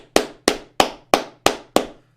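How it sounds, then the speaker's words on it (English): One person claps six times in an even, steady rhythm, each clap sharp, close and loud, followed by a brief silence. "I'm going to give third wave feminists at this conference a round of applause."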